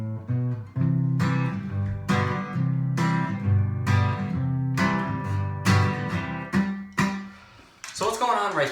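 An acoustic guitar is strummed in a folk, bluegrass style, with a bass note thumbed before each brushed chord in a steady bouncing rhythm.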